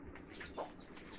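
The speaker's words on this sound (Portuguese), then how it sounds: "Galinha tomando conta de seus pitinhos." A hen clucks softly amid faint, high cheeping of chicks, over a steady background hiss.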